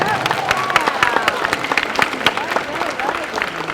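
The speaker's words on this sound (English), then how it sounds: "Let's clap. Let's clap." Audience clapping for a student being honored at a high school spring band concert, steady scattered claps with voices and cheers mixed in throughout.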